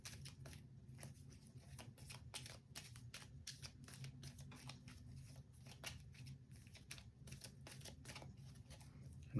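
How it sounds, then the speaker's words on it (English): A deck of cards from The 7th Continent board game being shuffled, heard as quiet rapid riffles and snaps repeating steadily throughout, close and soft with no talking. "I get to shuffle these all together again."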